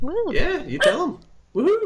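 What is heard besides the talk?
dog barking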